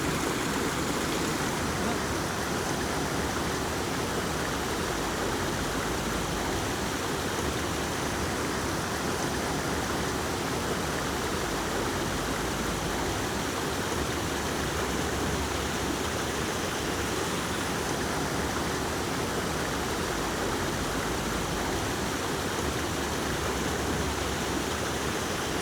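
Steady, dense rush of falling water, loud and unbroken throughout, like a close waterfall pouring continuously.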